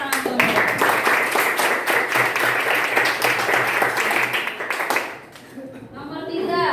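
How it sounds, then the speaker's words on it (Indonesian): Schoolroom applause: a class of students claps hands quickly and loudly for several seconds before it dies away, followed by a teacher's voice. "Tepuk tangan dulu"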